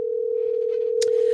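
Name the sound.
telephone dial tone when placing a call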